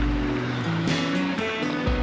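Creek water rushing steadily at a wooded creek crossing in winter, a continuous broadband wash filling the clip close by, with a faint low engine-like hum underneath.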